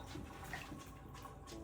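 Water being poured or sloshed for bathing guinea pigs in a tub, a soft continuous splashing and trickling at moderate level, close by and alone.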